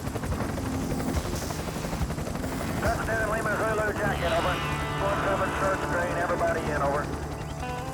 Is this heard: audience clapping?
no